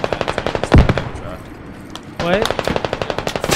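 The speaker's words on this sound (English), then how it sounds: "We're taking shots from our fucking northeast." Rapid automatic gunfire in the tactical shooter game Squad: close, rhythmic machine-gun bursts with a heavy single shot, a short pause, then more steady firing, with a brief spoken word from a player.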